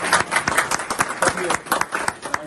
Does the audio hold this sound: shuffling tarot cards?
no